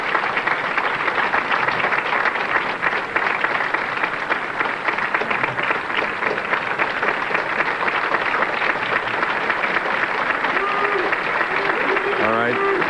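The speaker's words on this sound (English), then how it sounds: "Let's applaud him here in the house." Sustained applause and cheering from a large audience at a 1994 professional bowling tournament, a steady dense wash of clapping filling the whole stretch, with a few whistles toward the end.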